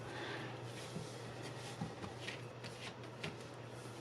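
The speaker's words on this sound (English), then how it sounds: "take the bottom of the pack, put it on top, and then immediately cut the top back on" Playing cards riffled and cut in a false cut where the bottom of the pack goes on top and is cut back, giving soft, close, papery shuffling and light slaps in a steady flurry, with no talk.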